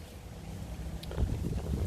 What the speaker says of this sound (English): the wind's coming. The wind's going to blow everything away